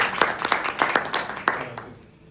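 A small audience at a talk or panel gives brief applause, a lively patter of scattered claps that fades out within about two seconds.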